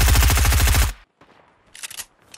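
A gold compact SMG in Fortnite fires one rapid, loud automatic burst of close, evenly spaced shots that stops abruptly, leaving faint game ambience and a short whooshing sound afterward.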